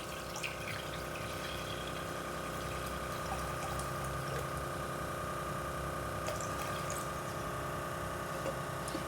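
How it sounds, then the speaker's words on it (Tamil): Steady running water pours continuously from a jug over a low background hum, with no pauses and no voices. "இது ஒரு சொம்பு தண்ணி ஊற்றிக்கிறேன்."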